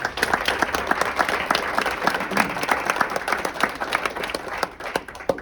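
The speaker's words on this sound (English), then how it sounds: "give them a round of applause" Steady, fairly close applause fills a borough council reorganization meeting in Morris Plains, with many hands clapping densely throughout and tapering slightly at the end.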